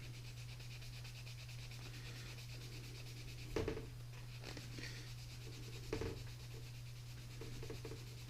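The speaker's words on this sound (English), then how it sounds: "got ourselves a sponge for this one. So you can just wipe it off." A sponge wipes across a gun's surface in faint, soft rubbing strokes, with a couple of slightly louder swipes, all set against a steady low electrical hum.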